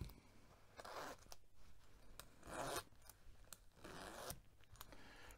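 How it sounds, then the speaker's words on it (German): Two-way zipper on a Banana Republic photojournalist vest being worked, giving several short ripping zips in bursts with pauses between them, close and fairly quiet with no talk. "Dann haben wir hier den 2-Wege-Reißverschluss."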